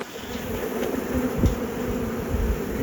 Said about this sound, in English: Bees on the outside, just want to make sure we get those guys up in the box.